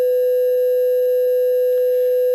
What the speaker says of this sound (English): You don't need to put a loud, annoying beep in there.